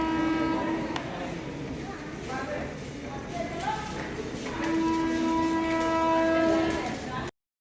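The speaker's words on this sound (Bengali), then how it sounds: "আর ট্রেন আমাদের এখানে এসে পৌঁছেছে 2 ঘন্টা 15 মিনিট লেটে।" A late train pulls into Jhargram station with two long horn blasts, one short at the start and a longer one near the end, over steady rumbling rail noise and background voices.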